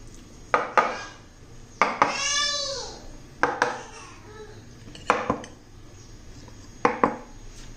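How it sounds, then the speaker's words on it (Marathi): Metal bowls filled with rava cake batter are tapped on a counter in a home kitchen, giving sharp clinking knocks in small bursts at irregular intervals, with some faint background voices. "सगळ्या वाट्यात एकदा अशा टॅप करायच्या."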